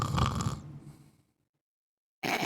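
A person on the ground imitates snoring during a tabletop Dungeons & Dragons session, a close, loud rasping snore that fades into a second of silence before another burst cuts in.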